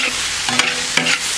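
Meat and white chili peppers stir-fried in a wok, with steady sizzling broken by a couple of sharp spatula scrapes and clacks, close and fairly loud.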